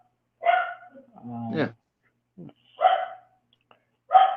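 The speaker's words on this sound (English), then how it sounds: "Sorry about my dogs barking." Dogs bark sharply and close by, a few separate barks spaced out, with a voice speaking briefly among them.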